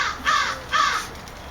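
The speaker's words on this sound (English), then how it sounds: "I think that's the same crow." A single crow gives two harsh, drawn-out caws in clear succession, each strong and fairly close, with quiet background in between and no talking.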